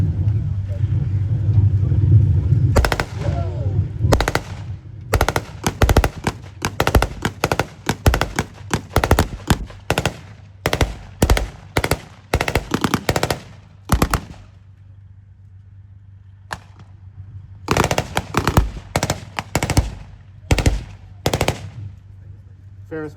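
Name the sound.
covering gunfire from Ferret armoured car at tank event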